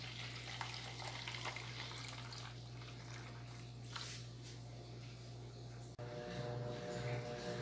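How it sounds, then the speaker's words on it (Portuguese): Water being poured into a homemade soap mixture, a steady continuous pouring wash heard close, with a low steady hum beneath and a brief break near the end. "eu tava aqui colocando a água"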